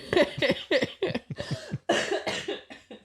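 A person coughs several times in a rough, broken series of harsh bursts, close and fairly loud, with brief pauses between.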